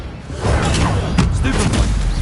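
Incendio fire spell cast in Hogwarts Legacy, a loud whooshing burst of flame with booming, crackling impacts that fill the short moment at steady high volume.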